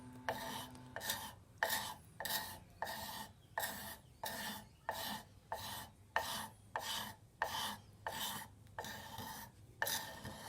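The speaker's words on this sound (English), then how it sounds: "you can hit it with some sandpaper" Sandpaper is rubbed back and forth along a restored wooden tool handle in a steady rhythm of about a dozen and a half raspy strokes, close and fairly quiet, with no voices.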